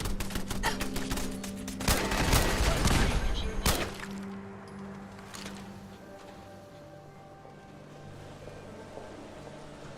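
Gun turrets opening fire in Fallout 4, dense rapid bursts of automatic shots ringing out loudly for several seconds, then cutting off and leaving a quieter lingering ambience.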